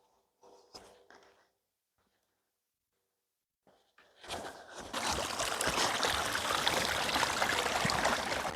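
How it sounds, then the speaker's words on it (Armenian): A murmuring stream comes in after a quiet stretch with a few soft knocks, then rushes and gurgles steadily and fairly close for the last few seconds. "Ջրի մոտ եմ հասել, քչքչոցը գալիս է"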